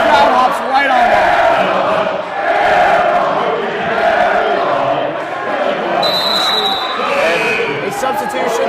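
A boys high school basketball crowd at Barlow vs Weston chanting loudly and rhythmically after an air ball, filling the gym, with an announcer talking over the noise and a whistle toward the end.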